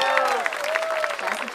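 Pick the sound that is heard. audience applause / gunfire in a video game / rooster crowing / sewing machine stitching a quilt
audience applause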